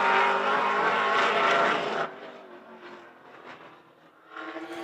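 A race car laps Hythe Motor Speedway in time trials. Its engine roars loudly and steadily at first, fades away as the car moves off, then rises again near the end.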